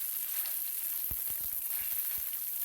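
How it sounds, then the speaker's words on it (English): Beef sears in hot oil in a pan for a stir-fry, giving a steady close sizzle with a few soft clicks and bumps over it and no talking. "add the oil, add our beef to this, and start searing it until it's a nice golden brown on one side"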